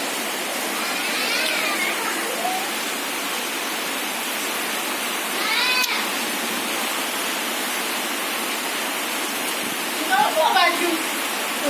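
Heavy rain pours in a dense, constant hiss that fills the whole stretch, while faint voices murmur underneath at a few moments.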